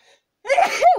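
One sharp sneeze close by, with a quick intake of breath and then a bright burst that dies away within a second.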